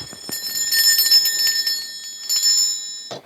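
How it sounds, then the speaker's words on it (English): A bell rung to cleanse a space gives bright, shimmering metallic tones, struck about twice and left to ring out clearly on its own before a brief thump at the end. "I'm going to be ringing a bell. This is just to cleanse the space around us."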